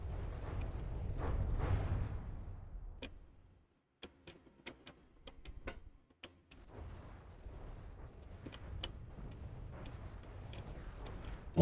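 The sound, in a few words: gunfire shots at aircraft propellers in video game From the Depths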